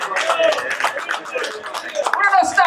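Scattered clapping at an awards dinner comes in bursts under a speaking voice for a few seconds.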